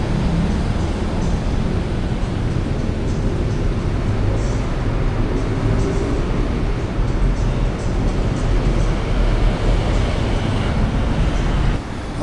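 Busy ambience inside Bangkok's central railway station: a steady, loud wash of low rumble and crowd murmur with rail and traffic-like noise, continuous throughout without clear individual events.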